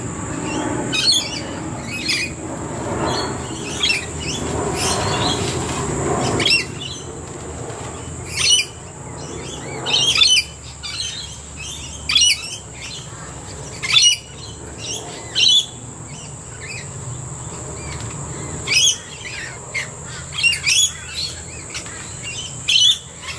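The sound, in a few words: magpies and parrots calling at a bird sanctuary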